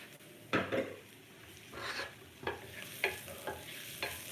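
Guiso being stirred in a pan while cooking for empanadas: quiet, intermittent scraping strokes of a utensil against the pan over a soft, low sizzle, close and with no talking.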